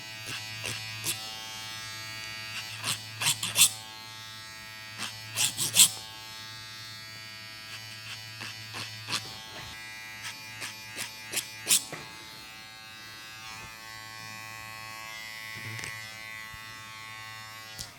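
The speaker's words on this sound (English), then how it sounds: "This comb is a 6mm and we just did a 9mm clipper towards the top" An electric hair clipper buzzes steadily through a men's short haircut, with repeated sharp snips and clicks on top as the hair is cut close.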